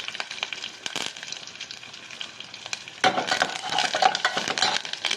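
Mustard seeds and curry leaves in hot oil, a soft crackle with light clinks that jumps into a loud, dense sizzle partway through, close and steady, with no talking.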